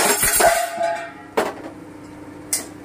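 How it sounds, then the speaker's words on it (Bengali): A metal pan lid drops to a kitchen floor during cooking, giving two sharp clattering impacts about a second apart, the first over a busy, sizzling start. "এই ঢাকনাটা পড়ে গেল নিচে"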